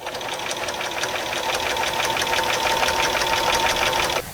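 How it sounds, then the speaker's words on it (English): A sewing machine runs a steady seam along a torn bed sheet, its needle clattering in a fast, even rhythm, close and loud, before stopping abruptly near the end. "I'm coming to the end of sewing the second side here."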